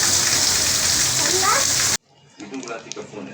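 Heavy rain pours down in Karachi, a dense, loud hiss of falling water for about two seconds before cutting away to a quieter indoor scene with someone speaking.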